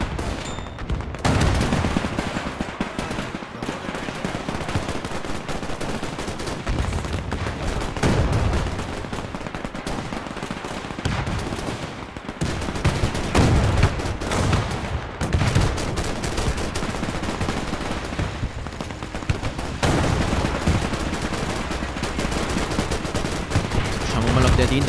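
Heavy battlefield combat in the strategy game Men of War II, with a mortar firing at a tank amid continuous dense gunfire and explosions, loud and unbroken throughout, while a voice talks over the din.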